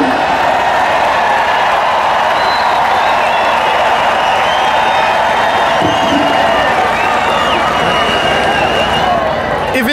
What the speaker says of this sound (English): You can hear the crowd in unison.